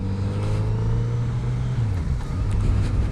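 A car following close behind a 2020-2021 Kawasaki Z900RS, its steady engine hum and road noise heard from the rider's position, with a slight pitch drop midway as the engine revs change.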